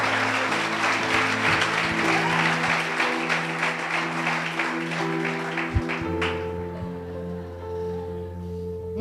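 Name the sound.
congregation applause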